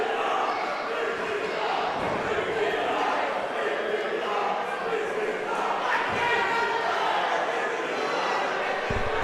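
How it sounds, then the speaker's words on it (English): Crowd at a live pro wrestling event chanting and roaring steadily throughout, a dense, loud mass of voices with occasional thumps underneath. "Listen to the crowd."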